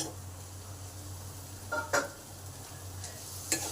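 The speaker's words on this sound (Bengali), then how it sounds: "আলুগুলো দিয়ে একটু কষে নেব" Potatoes stir-fried in a pan with spices in a home kitchen: a low steady sizzle with a few short scraping stirs of the spoon, fairly quiet and close, no talking.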